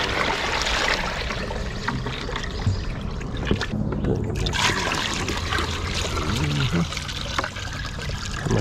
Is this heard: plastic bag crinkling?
no